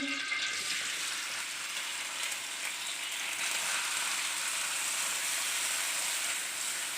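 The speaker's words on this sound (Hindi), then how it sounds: "प्याज को हम हल्का सा गोल्डन कलर देंगे, फ्राई करेंगे।" Finely chopped onions sizzle steadily in hot oil for quail karahi, a soft, even hiss of frying that carries on without a break, with no talking over it.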